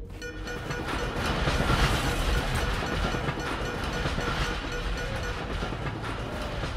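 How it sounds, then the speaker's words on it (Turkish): A train rumbles past in the video game Dishonored, a steady loud rolling roar with rattling carriages that swells and then holds. "Tren mi gidiyor?"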